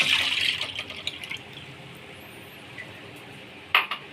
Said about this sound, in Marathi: याच्यामध्ये आपण दूध टाकणार आहोत गरम करायला